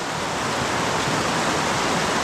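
Fast-moving water in a wild trout stream, a dense continuous rushing roar, loud and close with no break.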